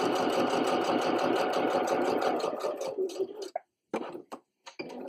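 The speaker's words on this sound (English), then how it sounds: "so this is where I'm going to stop and backstitch" A sewing machine stitches a wet bag for cloth pads, a close, loud, steady rapid whir that slows and breaks into short stop-start bursts as it backstitches.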